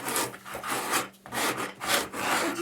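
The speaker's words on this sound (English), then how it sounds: "so we're just sanding it around the edges a little bit here" Sandpaper rasps back and forth along the edges of a decoupaged wooden car in quick, rhythmic strokes, close up and with no talking.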